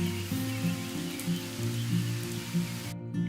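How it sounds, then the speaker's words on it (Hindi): Light drizzle falls during a Himalayan trek toward Madhyamaheshwar, a soft steady hiss of rain over a low continuous tonal hum. "देखते ही देखते मौसम करवट बदलने लगता है और रिमझिम बारिश शुरू हो जाती है"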